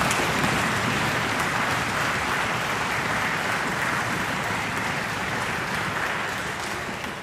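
Loud, sustained audience applause at a summer music camp finale concert, dense steady clapping filling the hall throughout, fading slightly at the end.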